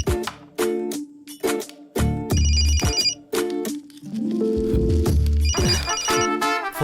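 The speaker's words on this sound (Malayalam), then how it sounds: "ഫോൺ അടിക്കുന്നത് കേട്ടില്ലേ?" A telephone rings in a home with a loud, melodic ringtone. The chiming bursts repeat in bright electronic phrases, close and continuous, with no talk over them.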